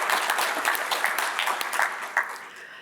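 Steady audience applause at a conference panel, many hands clapping at once in a dense, sustained patter that fades slightly toward the end.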